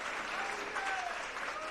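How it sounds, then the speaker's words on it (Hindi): Steady, dense applause from an audience at a gathering honouring three young men, continuous and fairly loud throughout with no gaps. "अनुरोध करूंगा अपनी जरा तालियां जोरदार बजाइएगा"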